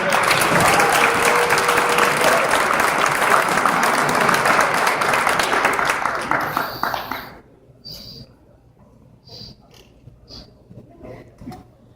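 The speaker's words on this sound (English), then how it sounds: "Round of applause for our" An audience at a boys basketball end-of-year banquet breaks into loud, dense applause that holds for several seconds, then fades quickly into a quiet room with scattered knocks and faint murmuring.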